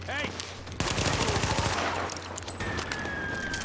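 Gunfire in The Division rattles out in rapid automatic bursts, loud and close, with sharp cracks stacking into a dense fusillade. Some faint speech sits beneath the shooting.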